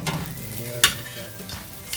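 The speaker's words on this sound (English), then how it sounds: "Sizzle there really good." Steady sizzling hiss of sous vide lamb searing on a hot grill, with a brief sharp clatter partway through.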